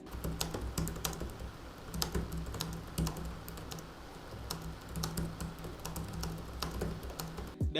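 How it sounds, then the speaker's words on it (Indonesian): Steady, quiet typing on an Acer Nitro 5 (2022) laptop keyboard, a continuous patter of soft key clicks with a low hum underneath. "Untuk keyboardnya feel ngetiknya enak dan cukup silent suaranya ketika kita pakai."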